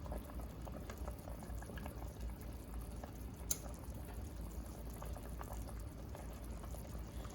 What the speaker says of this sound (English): So our soup has just come up to a boil about a minute or so ago.